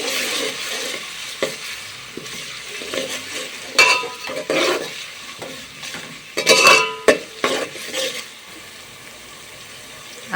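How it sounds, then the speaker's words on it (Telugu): Ginger garlic paste frying in oil for a restaurant-style chicken curry, a low sizzle broken by close stirring scrapes, pan clanks and splashy bursts, with no talk. "అందులోకి అల్లం వెల్లుల్లి పేస్ట్ ఆయిల్లోకి వేసి అది కూడా పచ్చి వాసన పోయేంత వరకు ఫ్రై చేసుకోండి"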